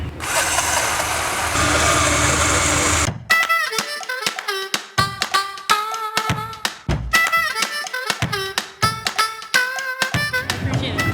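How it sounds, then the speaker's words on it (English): A blender whirs loudly and steadily for about three seconds while blending an oat milk berry smoothie with maple syrup, then cuts off abruptly and is followed by plucky, tonal tapping sounds. "For Alice and Jackson, we're gonna put a little maple syrup into our smoothie, blend her all up"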